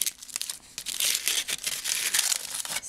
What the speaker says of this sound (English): Up next is this tin foil